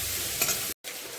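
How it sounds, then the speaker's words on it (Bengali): Pumpkin greens, their water cooked off, sizzle in a pan while being stirred. The frying is steady and close, with a brief scraping stir and a short gap of silence near the end. "শাকটার জল শুকিয়ে গেছে, এখন আরেকটু নাড়াচাড়া দিয়ে তারপরে জল দিয়ে দেবো"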